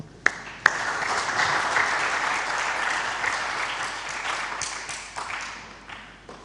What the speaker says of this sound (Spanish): les recompensamos o les saludamos con un aplauso de bienvenida